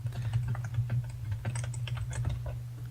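Rapid, uneven key clicks from a new computer keyboard patter close by over a steady low electrical hum, with a few louder thumping strokes among the lighter taps.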